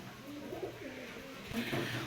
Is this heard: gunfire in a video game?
no